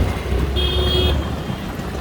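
Steady low road traffic rumble from inside a moving car carrying a dog named Rocky, with a brief high tonal squeal or horn-like note in the middle; continuous and fairly close, no speech.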